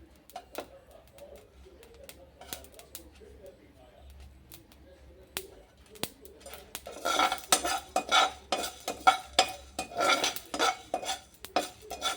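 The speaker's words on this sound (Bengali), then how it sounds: "ভেজে নেব বলতে যতক্ষণ না গন্ধ বের ততক্ষণ ভাজবো" Whole spices dry-roasted and stirred in a pan for a vegetarian paneer dish, sparse taps and clinks of a spoon at first, then busier rhythmic scraping and clatter building up close by.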